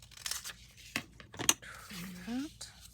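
Scissors trimming a flap on an organizer, a few brief close snips and a tearing rustle, with a quiet voice speaking briefly.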